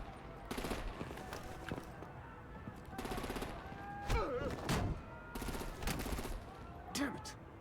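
Artillery and automatic gunfire rattle in loud rapid bursts in a Batman: The Enemy Within game scene, several sustained volleys separated by brief pauses, with heavier impacts and mid-distance explosions in between.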